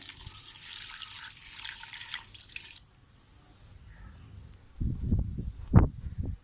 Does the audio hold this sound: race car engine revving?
no